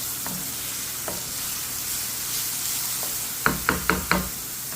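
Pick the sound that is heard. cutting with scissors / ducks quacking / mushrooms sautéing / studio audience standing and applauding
mushrooms sautéing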